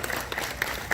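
Steady applause from a crowd gathered at a Ford dealership celebration, continuous and fairly close with no pauses across the short stretch.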